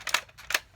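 A Nerf blaster fires twice during a backyard Nerf war, two short, sharp snapping bursts about half a second apart, fairly close and moderately loud with no talking over them.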